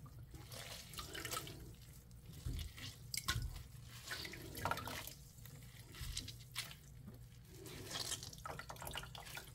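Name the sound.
rinsing water dropwort in cold water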